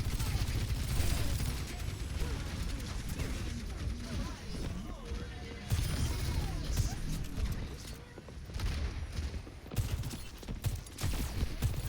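Overwatch match gunfire, with dense continuous shooting, impacts and ability effects filling the whole stretch, loud and busy, and a voice talking over the battle.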